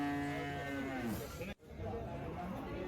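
Cattle moo loudly and repeatedly at a busy livestock market where a locally bought dairy cow is for sale, the long drawn-out calls close by with background murmur and a brief cut partway through.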